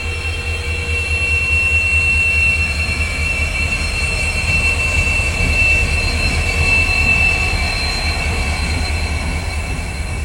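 Madurai–Ramanathapuram Express train running on the railway, a loud steady rumble of wheels and cars close by, with high squealing wheel tones held over the whole passage and no voices.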